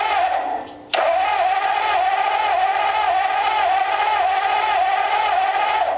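A scrap-built engine run stand fires up with a sharp start, then settles into a steady, loud, close idle with a constant mid-pitched drone for several seconds.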